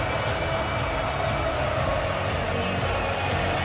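Argentina supporters fill a World Cup stadium against France, a dense, continuous roar of crowd noise with a faint pulsing chant rising and falling throughout.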